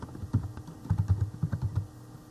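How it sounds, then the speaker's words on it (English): Quick, close keystrokes on a computer keyboard, a burst of about a dozen soft clicks in an uneven rhythm with no talking. "I'm going to be starting to type in the information."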